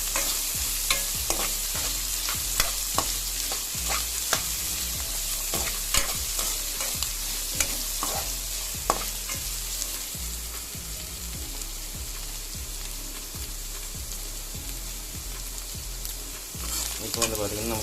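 Potato, carrot, onion and green chili sizzle steadily in hot oil on a tawa, a continuous close frying hiss broken by regular scraping knocks of a spatula stirring the pan.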